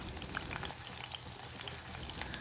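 Green chillies fry in a pan for a yogurt curry, a faint but steady crackling sizzle with scattered small pops and no talking.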